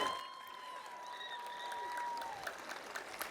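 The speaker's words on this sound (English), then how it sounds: "Give yourself a big round of applause for that." Graduating high school class of 2025 applauds at their ceremony, a soft, distant patter of clapping under a sustained tone, with a few sharper claps near the end.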